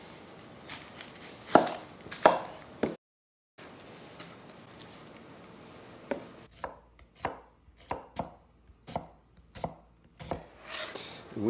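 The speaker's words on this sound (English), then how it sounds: "the first thing I need is a diced red onion" A knife dicing a red onion on a cutting board, with clusters of quick sharp chops, a brief pause, then a steadier run of separate knocks, close and clear with no talk.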